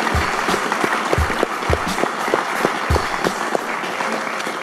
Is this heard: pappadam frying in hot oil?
no